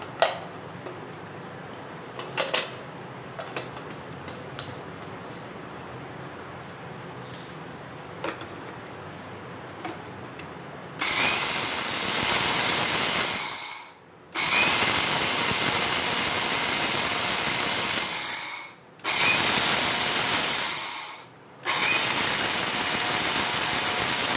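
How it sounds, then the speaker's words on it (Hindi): A kitchen grinder processes home-remedy ingredients: after quiet handling clicks, a loud, close motor whine starts midway and runs in three bursts separated by brief stops, with no one talking. "अब जो है इसको मैं ग्राइंड करती हूँ।"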